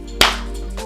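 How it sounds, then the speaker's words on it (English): One crisp, close hand clap added as Foley in editing, a sharp single burst with a short decay over steady room hum. "So you see the second time I clapped, I actually inserted Foley."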